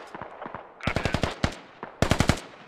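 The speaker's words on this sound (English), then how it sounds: "Two squads of Russians still just taking shots at the U.S." Gunfire from Russian squads in a military video game fills the clip. Short bursts of rapid automatic shots with a few single cracks come in clusters, loud and close.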